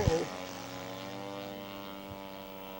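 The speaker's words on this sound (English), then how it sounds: "the Henkel 100 is taxiing out for his very first flight of the weekend" A scale model Heinkel 100 warplane replica taxiing at a scale aircraft show, its engine giving a steady, fairly loud harmonic drone that holds at even pitch throughout, with a brief thump at the start.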